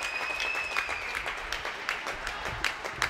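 The Schwerin home crowd at a volleyball match applauds a won point, a steady burst of clapping from a packed hall with a shrill whistle tone over it.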